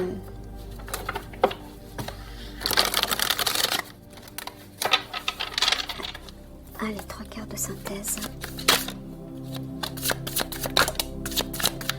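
Tarot cards are shuffled and drawn by hand in a close, busy run of riffling, flicking and rustling, with some soft speech in places.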